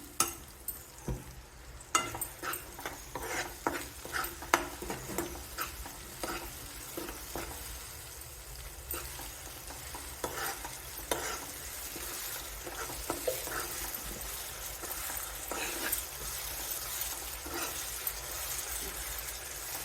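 A paste of tomato, dried red chilli, ginger, garlic, cardamom and cloves frying in a pan, with a soft continuous sizzle and repeated light scrapes of stirring, quiet and close, without speech.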